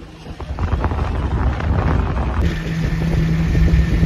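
Strong evening wind buffets the microphone in a loud, continuous rush, over the low rumble of a moving truck.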